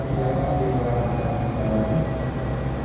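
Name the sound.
Parahyangan train entering Purwakarta station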